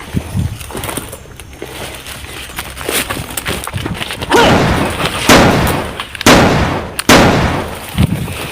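Gunfire in the Philippines, with several sharp, loud cracks standing out against a noisy outdoor background, spread irregularly over a few seconds.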